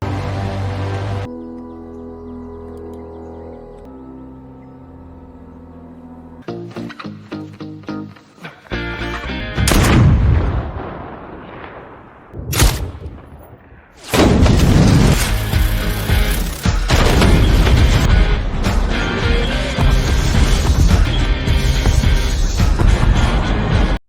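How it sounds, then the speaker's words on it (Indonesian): Gunshots fired at explosives stuck onto satellites, followed by a loud explosion; a quiet low musical drone gives way to sharp bursts and then a sustained roaring blast. "Levi dan Rasa pun langsung mengambil posisi membidik untuk menembak peledak yang sudah mereka tempel pada"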